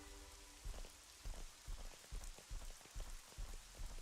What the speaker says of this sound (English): Of course it's raining the first time I enter here.